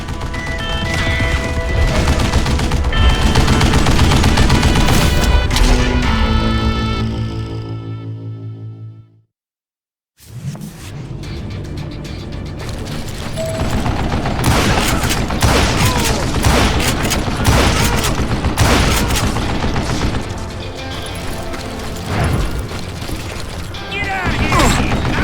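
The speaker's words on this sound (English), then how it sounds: "Kid Curry opened up on me with a goddamn Gatling gun" Gatling gun hidden in a tunnel blazing away in the Western shooter Call of Juarez: Gunslinger, a dense loud mechanical rattle of rapid fire that cuts to a brief silence, then resumes with crashes and more shots.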